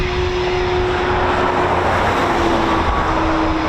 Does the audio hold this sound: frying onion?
no